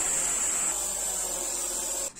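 A knife handle is shaped by hand on a pocket butcher knife made from a saw blade, giving a steady, close abrasive rasping and rubbing that runs on evenly before cutting off abruptly.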